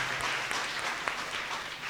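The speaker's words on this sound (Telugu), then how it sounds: "సిస్టర్ కృప వారి యొక్క బృందాన్ని అంతటినీ కూడా అభినందిస్తూ గట్టిగా చప్పట్లు కొట్టి కృతజ్ఞతలు తెలియచేద్దాం" An audience applauds to thank the sisters at a church festival in Yelamanchili, Visakhapatnam, the clapping a steady, dense crowd patter with no talk over it.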